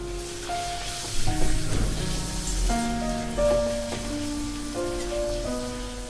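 Papad pieces frying in hot oil in a home kitchen, a steady crackling sizzle that swells when they are dropped in and continues loud and close, with tonal music playing underneath.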